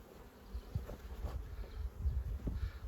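A low, steady insect drone of honey bees buzzing close by at a hive, with small thuds and rustles layered over the hum.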